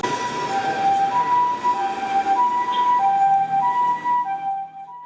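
A Japanese ambulance siren wails in a repeating two-tone pattern, clear and prominent over soft traffic noise, then fades near the end.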